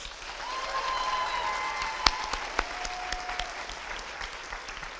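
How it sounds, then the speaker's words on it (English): An audience applauds the Boulder Ballet performance at a young dancers' ballet competition finals, steady crowd clapping with a few louder individual claps near the end and faint tonal hums in the background. "Let's give them another round of applause"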